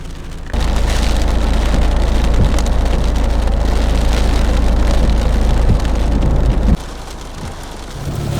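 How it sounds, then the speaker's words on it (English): Heavy rain pours down in Botswana's Okavango Delta ahead of a big storm, a dense, loud hiss that begins abruptly, drums steadily on a surface for several seconds, then eases slightly near the end. "the rain has started to fall and I think we're going to get hit by a very, very big storm"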